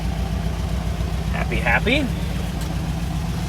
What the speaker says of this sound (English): She's just sitting there idling at 170.